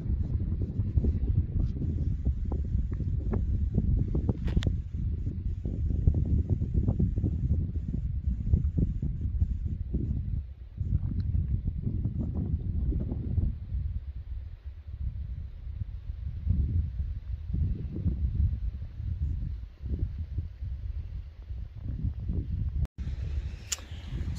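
Steady, strong wind buffets the microphone for the whole stretch on a rural property in central Portugal, a continuous low roar with gusty surges and no voices.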